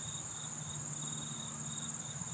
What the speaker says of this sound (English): the sounds of the cars and the sounds of the crickets and the birds